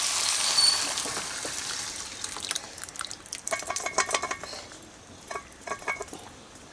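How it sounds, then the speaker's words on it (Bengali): Ladle stirring lentil dal in a pot, giving scattered scraping clinks and soft wet knocks at close range, with no voices. "দেখুন সমস্ত ডালটা দিয়ে দিলাম। এবার মিক্স করে নিচ্ছি।"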